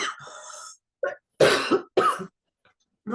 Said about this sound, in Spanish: de repente me da un poco de tos